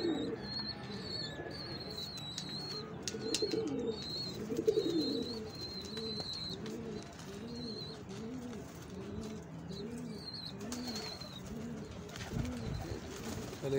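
Pigeons on a rooftop cooing in steady, repeated low throaty calls that overlap one another, mid-distance and continuous over quiet background ambience, with a faint higher chirp now and then.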